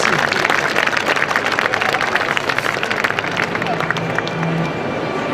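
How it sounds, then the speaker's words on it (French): An audience at a Muay Thai demonstration at a Geneva exhibition claps in a dense, fairly loud burst of applause that thins out toward the end, with crowd murmur underneath. "On peut quand même les applaudir un peu"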